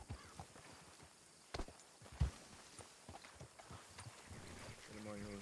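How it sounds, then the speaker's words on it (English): Horses trot in the western role-play game RedM, their hooves making a faint, uneven clip-clop beneath game ambience, with a few louder knocks scattered through. "Follow, listen to these trots."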